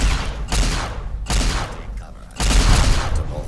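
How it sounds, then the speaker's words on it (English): Raiders fire at the player in Fallout 4's Nuka-World, heard as loud, dense bursts of gunfire in repeated volleys with short gaps between them, close and heavy. "Who's shooting at me?"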